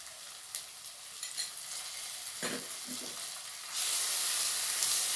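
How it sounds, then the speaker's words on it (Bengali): Ginger paste and ground cumin, coriander and black pepper frying in hot oil, a steady close sizzle with a few soft stirring scrapes, the hiss growing louder and brighter near the end. "সমস্ত মশলাগুলো আমি খুব ভালো করে ভেজে নেব।"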